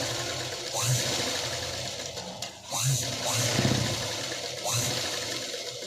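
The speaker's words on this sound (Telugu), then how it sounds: "ఇలా ఈ రౌండ్ మొత్తం కూడా మనం స్టిచ్ చేసుకోవాలి" A sewing machine stitches a round seam on a blouse, its motor whirring steadily up close with a rapid rhythmic needle chatter and brief pauses as the cloth is turned.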